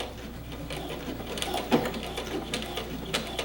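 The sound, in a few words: sewing machine doing a back stitch on shirt pocket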